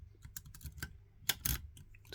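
Lock picks raked and jiggled in a vintage Hungarian padlock, giving scattered small metallic clicks and scrapes with a couple of louder rattling bursts, close up and quiet.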